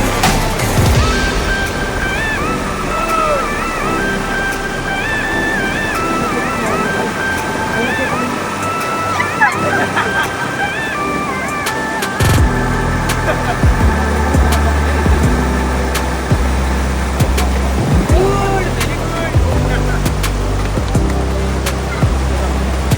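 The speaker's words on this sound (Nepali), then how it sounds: "ठुल्ठुला ढुङ्गाले घेरिएको यो बाणगङ्गा, जसलाई कि गङ्गा नदी भनेर भनिन्छ।" The Banganga river, ringed by large stones at its source near Bhartapur in Arghakhanchi, rushes in a steady broadband wash that persists throughout, with a lower rumble strengthening midway and a voice talking over it in places.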